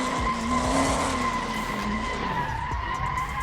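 A big truck drifts through a turn, its tires skidding and squealing in a sustained, loud, wavering screech over a steady engine roar.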